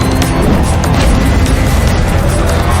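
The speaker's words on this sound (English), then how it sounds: "5 snowmobiles were involved in this crash" A multi-snowmobile pileup of five roughly 500-pound machines on a freezing race track, heard as a dense, loud roar of engines mixed with crunching impacts and scraping, continuous and close throughout.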